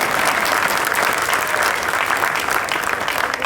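An audience at a Delhi political gathering claps for Virendra Sachdeva, producing dense, steady applause that stays loud throughout with no pauses.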